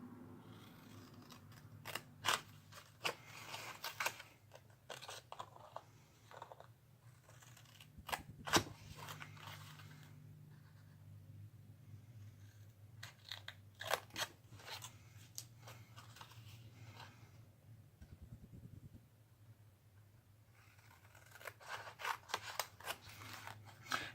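Scissors snip through paper while a letter is cut out for an Easter card, sharp close clicks coming in irregular bursts with quiet pauses between them.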